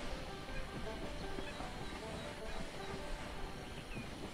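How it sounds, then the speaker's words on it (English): A steady rumbling train noise with hiss in the game Compass Point West, continuous and fairly loud throughout, like a locomotive departing a station with a dense mechanical roar. "Okay, let's send the train."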